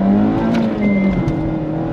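A 2024 Mazda MX-5 engine on the road, a loud steady drone with a rising pitch as it revs up and pulls, heard close from inside the car, with no talking.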